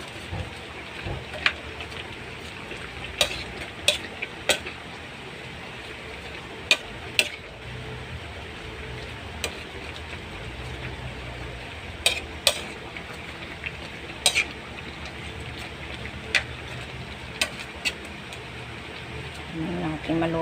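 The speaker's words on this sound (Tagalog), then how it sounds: "Hayaan ko muna siya maluto konti bago ko ilagay ang kanyang gata." Sweet potato leaves cooking in a pan before coconut milk goes in, giving a low continuous sizzle scattered with sharp clicks and taps of a utensil against the pan.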